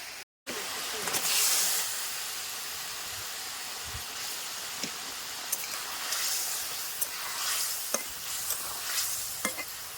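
Fish being added to a boiling, sour-spicy village-style fish curry, a steady simmering hiss with soft stirring clinks and splashes, fairly quiet throughout.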